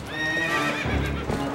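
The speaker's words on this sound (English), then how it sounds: "maybe Link called her or something like that with the horse call" The horse Epona in Zelda: Twilight Princess lets out a loud, whinnying neigh over quick galloping hoofbeats that patter throughout, with game sound effects close and busy.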